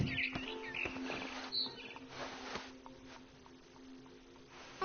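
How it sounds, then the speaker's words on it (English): A barn swallow chirps outside a window in What Remains of Edith Finch, with scattered short tweets and calls over a quiet, soft background, some close and bright, others fainter. "Then I heard chirping outside my window. It was a barn swallow going back to her nest."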